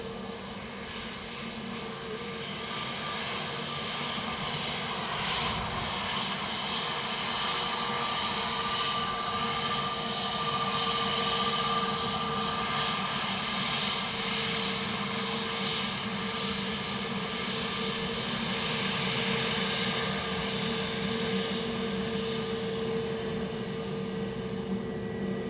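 A Pegasus Airlines jet lands at Dublin Airport, a sustained, loud engine roar with steady whining tones that swells slightly as it passes close by.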